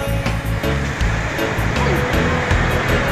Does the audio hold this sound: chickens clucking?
no